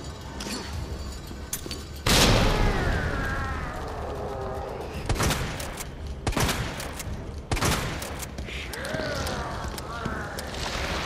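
Pistol gunfire in the Resident Evil 2 video game: a series of sharp, loud shots fired in spaced bursts over a low game soundscape, with someone talking between and over them.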